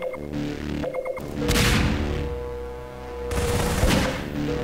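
Shotgun blasts in a Half-Life 2 Deathmatch tournament final, a few loud booming shots with crashing impacts and game effects, no talk.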